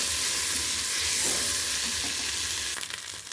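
Cumin spice paste frying hard in a pan, a loud dense sizzle close by with light stirring scrapes, easing slightly near the end, no one speaking.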